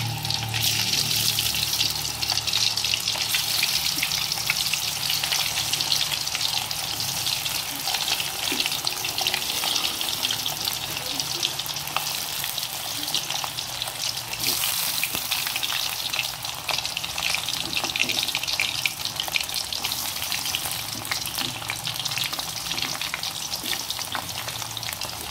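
Potato pieces deep-fry in hot oil for French fries, giving a continuous dense sizzle and crackle that holds steady and loud, with no voices.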